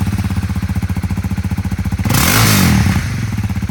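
A used 2018 Honda Rebel 300 lightweight cruiser motorcycle idles with a close, steady thumping beat, then revs up briefly around the middle before settling back to idle.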